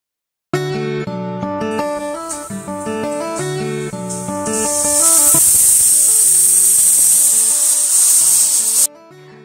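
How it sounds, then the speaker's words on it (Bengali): Steady, bright steam hiss rises from a pressure cooker boiling potatoes and holds for several seconds over a bed of music, then cuts off abruptly. "আর এখানে আলুগুলো সিদ্ধ করে নেব। তো তার জন্য প্রেসার কুকারে দিয়ে"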